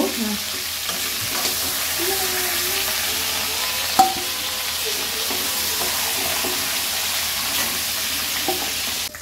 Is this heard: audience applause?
no